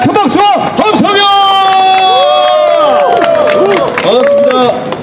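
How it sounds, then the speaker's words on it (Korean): A crowd at a fishing expo's bass lure fishing session cheers and applauds loudly, with children shouting over the clapping and a continuous babble of voices and whistles throughout. "큰 박수와 함성여"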